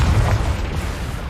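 A Confringo blasting spell explodes in Hogwarts Legacy against a giant spider, a loud, deep boom that rolls off into a fading rumble.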